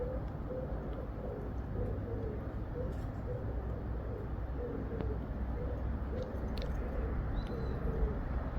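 Doves or pigeons coo in a garden, a soft repeated low call heard at moderate distance over steady outdoor background noise, with a few faint higher chirps.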